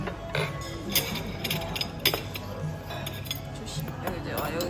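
Cutlery clinks and a knife scrapes against a plate at a restaurant table in Tokyo. The clicks are light and irregular, the utensils tapping the dish, under soft conversation and background chatter.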